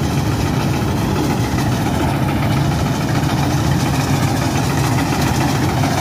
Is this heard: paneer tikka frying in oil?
no